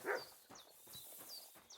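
A dog in Kingdom Come Deliverance 2 gives a short yelp, then a series of faint high whimpers and whines repeating at close range.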